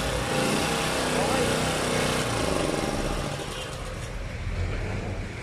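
A Marpro USA generator engine runs with a buzzy, steady small-engine drone, fairly close and continuous, with voices talking over it.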